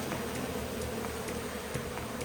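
Honey bees buzz in a steady, continuous drone from a colony being removed from a flat roof, close and even throughout, with no voices.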